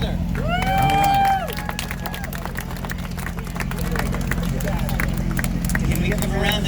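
A crowd at a car show applauds and cheers, a steady wash of clapping and scattered shouts under a voice speaking over it, with a brief whistle-like tone near the start.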